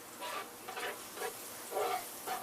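Two crepes frying together in a small pan give a soft sizzle that swells and fades in gentle waves, heard close and fairly quiet.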